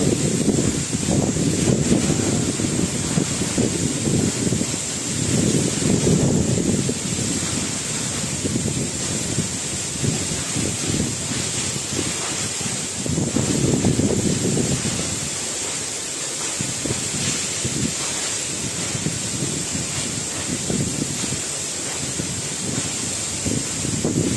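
A steady, hissing roar of falling water from the Coban Rondo waterfall in Pujon, Malang, rushes on without a break, while gusts of wind buffet the microphone in waves.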